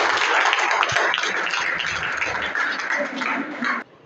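College students applauding a correct quiz answer at a school event, a dense burst of clapping from a crowd that holds steady for nearly four seconds before cutting off.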